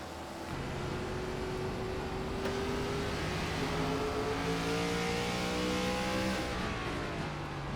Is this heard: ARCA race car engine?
yes